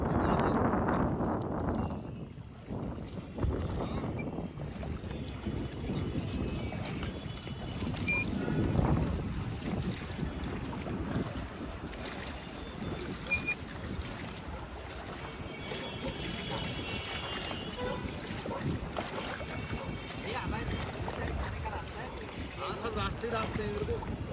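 A boat moves across Nainital lake with steady water and engine rumble and wind buffeting the microphone, while people talk throughout.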